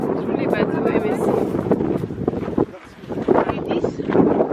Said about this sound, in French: je sais pas si vous m'entendez parce qu'il y a beaucoup de vent